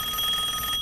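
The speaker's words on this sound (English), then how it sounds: "Crocky's must be getting a phone call, kids." A telephone bell rings in a brief, steady electronic trill, close and clear, with no voices over it.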